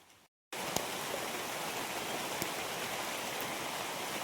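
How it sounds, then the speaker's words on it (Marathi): After a brief silent gap, steady unseasonal March rain falls in a constant wash of noise, with a few faint drips and ticks standing out. "मार्च महिन्यातच पावसाची सुरुवात"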